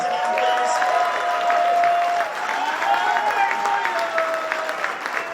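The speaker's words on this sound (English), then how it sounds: "can we give Andrew a round of applause again, please?" An audience gives a warm round of applause for Andrew at a live unplugged show, steady clapping filling the room for several seconds and easing slightly midway.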